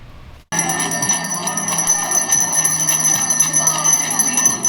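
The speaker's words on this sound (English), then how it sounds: "Those melodious sounds of bell ringing signals that Christmas is right around the corner" A hand bell rings continuously with bright sustained tones after a brief quiet opening, the ringing loud and steady, at Christmas time.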